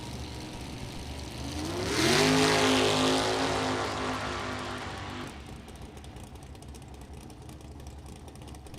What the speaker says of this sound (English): doing some license runs now in this rear-engine dragster, a 2000 Mulligan chassis dragster